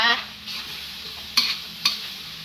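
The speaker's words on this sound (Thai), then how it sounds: "พริกไทยอ่อนค่ะ ตามด้วยใบมะกรูดค่ะ ผัดให้เข้ากันอีกรอบนะจ๊ะ" Seafood stir-frying with fingerroot, green peppercorns and kaffir lime leaves in a hot pan, a steady close sizzle broken by a few sharp scraping stirs of the spatula against the pan.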